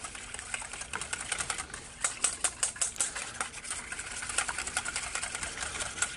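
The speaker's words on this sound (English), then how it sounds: "I'm going to go ahead and give that a good whirl with the whisk" Rapid, rhythmic clicking of a whisk beating eggs and milk with a little cinnamon in a bowl at a campfire, steady ticking strokes close by with no talking.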